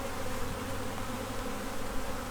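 Honeybees in a newly installed package hive, five days in, a dense continuous buzzing hum of many bees close by, steady and unbroken with no voices.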